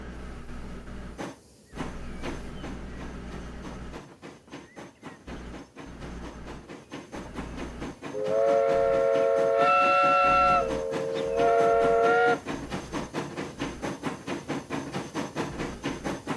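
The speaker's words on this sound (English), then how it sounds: "Let's watch the choo-choo train." A steam train departs in Transport Fever 2, its whistle sounding two loud, sustained harmonic blasts midway, followed by steady rhythmic chuffing and rail clatter that continues to the end, with no talking.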